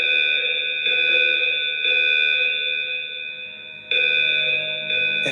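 An alarm sounding in a Soviet command center outside Moscow, a steady loud electronic tone with several harmonics, pulsing in long repeated sections and heard alone.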